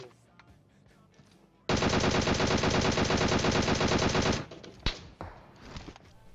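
Kar98 rifle fire in PUBG Mobile bursts in as a dense, loud, continuous volley of gunfire for a few seconds, followed by scattered sharper shots and clatter.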